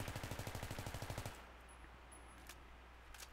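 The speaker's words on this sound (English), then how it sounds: "Full mag dump" M16 rifle fitted with a heavy barrel in a video game, emptying a full magazine in one rapid, evenly spaced automatic burst of about twenty shots lasting just over a second, loud and close, then quiet with faint clicks.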